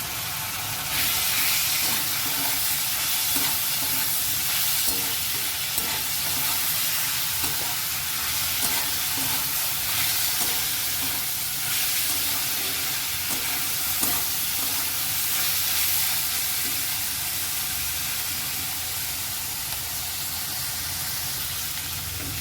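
Ginger garlic paste fries in a hot pan with a loud, steady sizzle and hiss that runs continuously, with faint stirring underneath.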